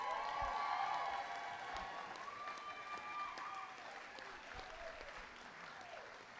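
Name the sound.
audience applause at a graduation ceremony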